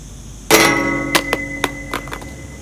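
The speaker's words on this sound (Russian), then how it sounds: "А если бросить на трубу?" A Blackview BV7100 rugged phone strikes a metal pipe with a sharp ringing clang, then bounces several times with smaller metallic clinks, while a bright tone rings out close and loud.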